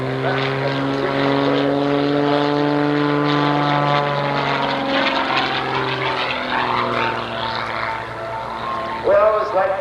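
A propeller aerobatic plane flies a routine at the Oshkosh 1989 airshow. A sustained engine hum shifts and sweeps in pitch as the aircraft maneuvers, heard at a distance beneath a public-address announcer who talks throughout.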